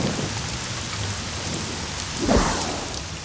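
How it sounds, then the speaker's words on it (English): Steady heavy rainfall hisses on surfaces throughout, with a low thunder rumble swelling near the end, a television-show storm effect with no voices. "You will experience rain in approximately 6 seconds."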